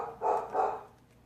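Two quick dog barks in succession, moderately loud and slightly distant, then quiet.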